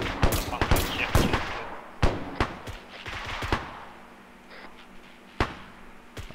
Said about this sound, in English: You see those friendly shooting there?